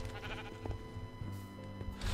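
Faint Minecraft sheep bleats come through a steady background hum, with a slightly louder bleat near the end.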